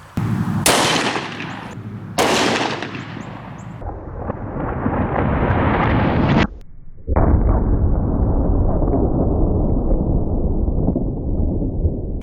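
Pistol shots of .45 ACP +P 185 grain hollow points fired outdoors into ballistic gel: two sharp, loud cracks early on with echoing tails, followed by a sustained rumbling roar and a third heavy blast.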